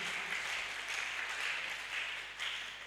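A church congregation claps and cheers in praise, a steady wash of applause spread across a large room at low level, continuing without pause from start to finish.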